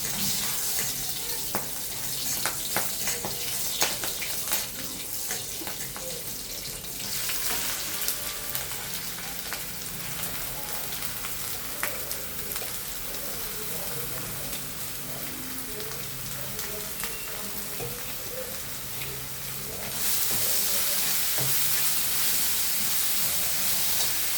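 Brinjal sautéing in a pan, a steady close sizzle with continuous crackling and spitting that grows a bit louder near the end, with no talking over it.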